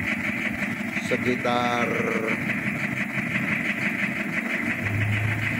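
A Toyota Kijang LGX diesel engine runs at a raised idle with the throttle propped open, a steady loud drone throughout, with a voice speaking briefly over it.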